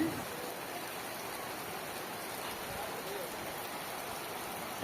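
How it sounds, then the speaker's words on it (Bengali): Heavy rain pours down steadily outdoors as a dense, even hiss at moderate distance, constant and unbroken throughout with no voices over it. "আর দেখো অঝোরে বৃষ্টি নেমেছে"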